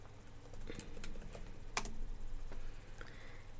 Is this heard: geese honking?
no